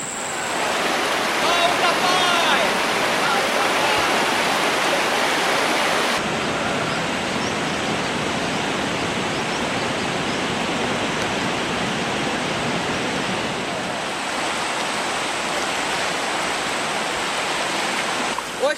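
A river in the Borneo rainforest of Malaysia rushes in a loud, continuous wash of water, steady and close, with an abrupt shift in tone partway through and no voices heard.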